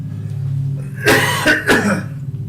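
One person coughs two or three times in quick succession, turned slightly away from the microphone, over a low steady background hum.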